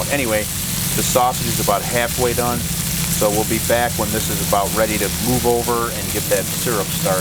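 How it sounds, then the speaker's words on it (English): A neighbor's lawn mower drones steadily in the distance outdoors beside a Blackstone griddle, a low continuous engine hum beneath someone talking throughout, with a faint sizzle of frying sausage. "I've got a neighbor out here that decided to mow their lawn"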